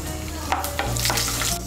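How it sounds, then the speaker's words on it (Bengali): Cashews and raisins frying in hot oil, a steady close sizzle with soft crackles and a few stirring scrapes, continuous and moderately loud. "তেলটা গরম হয়ে গিয়েছে, এর মধ্যে আমি কাজু বাদাম আর কিশমিশগুলো ভেজে নিচ্ছি"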